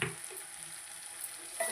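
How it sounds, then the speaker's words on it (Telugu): Broad beans and tomato frying in a curry pan with chilli powder, a close, steady sizzle and crackle with light stirring scrapes and a couple of brief clinks near the start and end. "చూడండి, ఇలా బాగా ఫ్రై అయ్యాక మనం ఈ కర్రీకి సరిపడా కారం యాడ్ చేసుకోవాలి."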